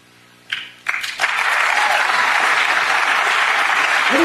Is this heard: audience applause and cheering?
yes